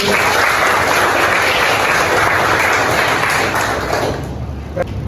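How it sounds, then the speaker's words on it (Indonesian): A high school class claps together in a classroom, a full steady burst of hands that fades out after about four seconds, followed by a quiet room and a single sharp tap. "Bagus, tepuk tangan dulu."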